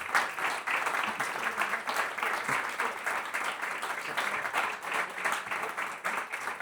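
Sustained audience applause after a lecture on Jasper Johns' work at Fundação Vieira, a dense steady wash of many hands clapping throughout, fairly loud and without a break.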